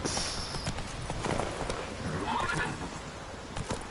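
Roach the horse from The Witcher 3 whinnies clearly with a drawn-out neigh, with clip-clop hooves and ambient game noise running underneath throughout.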